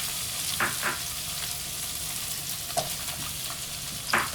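Vegetables softening in a preheated, oiled frying pan, a continuous bright sizzle with a few sharper crackles and stirring scrapes, no voices.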